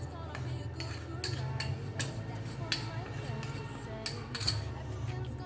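Gram flour is stirred into rice flour for cauliflower pakoras, the spoon scraping and clinking against a bowl in light irregular taps over a low steady hum.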